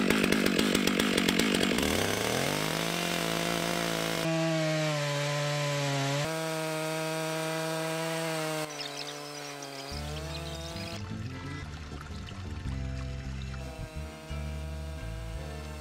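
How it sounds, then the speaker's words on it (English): A chainsaw buzzes loudly and continuously as it cuts through a fallen tree log, its pitch shifting in distinct stages as the blade bites deeper. "The chainsaw is cutting through that like a knife through hot butter."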